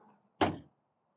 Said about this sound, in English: These are all easy closed doors as well.